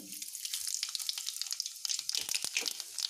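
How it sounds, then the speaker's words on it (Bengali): Dried chili, bay leaf and black cumin sizzle and crackle in hot oil while cooking a pomfret fish dish, a steady close frying hiss with sharp pops and no talk. "এই তেলের মধ্যেই শুকনো লঙ্কা তেজপাতা আর কালো জিরে দিয়ে দিলাম"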